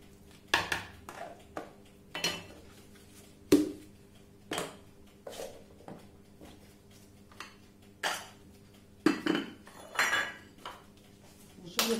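A metal baking tray and dishes are clattered and set down in a kitchen while making puff pastry, giving a steady series of distinct clinks and knocks, roughly one every second, close and fairly loud.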